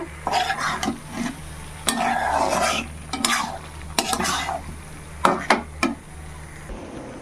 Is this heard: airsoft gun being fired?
no